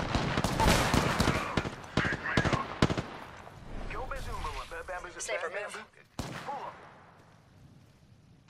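Dense bursts of video game gunfire from Wingman shots rattle out close and loud in the first few seconds, then a final sharp shot, with voices talking between and over them.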